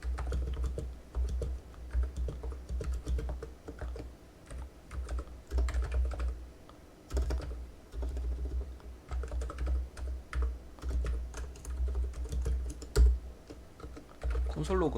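Someone types code on a computer keyboard in steady bursts of close, soft key clicks with brief pauses, accompanied by a low background hum.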